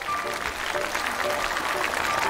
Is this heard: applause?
yes